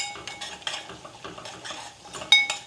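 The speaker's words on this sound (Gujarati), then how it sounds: "ફરીવાર મસાલો કરી લઈએ અને મિક્સ કરી દઈએ" A spoon stirs masala into bottle gourd curry in a pan on the gas, with repeated metallic clinks and scrapes against the pan in an uneven rhythm, close and moderately loud.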